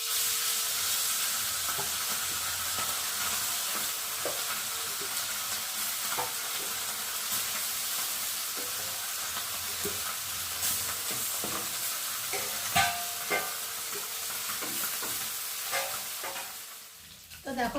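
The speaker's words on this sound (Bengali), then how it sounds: "এখন ট্যাংরা মাছগুলোকে ভাজতে দিয়েছি" Tangra fish frying in hot oil, a loud continuous sizzle with scattered crackles and spits, heard up close and mostly without talk.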